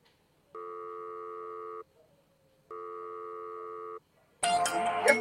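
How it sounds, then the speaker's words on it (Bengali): A telephone ringing indoors, two long electronic ring bursts separated by a pause, clear and fairly loud, followed by a noisy rustle at the end. "এত ফোন কেন আসে?"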